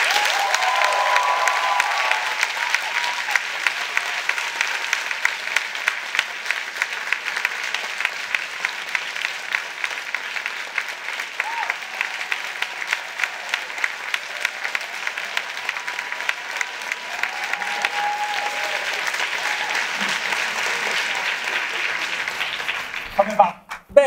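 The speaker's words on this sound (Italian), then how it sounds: "Un applauso a Francesco Costa." Sustained applause from a large audience, steady and dense clapping for over twenty seconds before it fades out.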